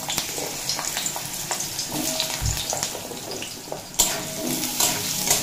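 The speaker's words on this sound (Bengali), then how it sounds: "আলু মিডিয়াম ফ্লেমে রেখে 1 মিনিট মতো ভেজে নিয়েছি" Potatoes fry in mustard oil with cumin seeds, a steady sizzle over a medium flame with a few clinks of stirring, close and continuous, no talk.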